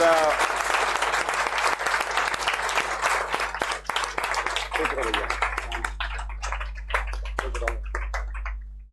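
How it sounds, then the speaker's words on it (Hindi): An audience at an academy felicitation applauds two honorees, a loud mass of clapping that gradually thins into scattered claps over a low steady hum, with voices talking throughout. "तो खैर हम चाहेंगे कि आप लोग जोरदार तालियों से स्वागत करें"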